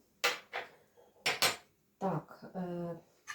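A spoon clinks and scrapes against a bowl while sugar cookie batter made with kefir is stirred, giving a few close, sharp knocks and clatters separated by short pauses.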